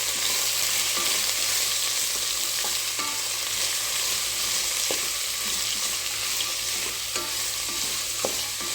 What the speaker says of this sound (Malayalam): സവോള നന്നായി വഴണ്ട് വരട്ടെ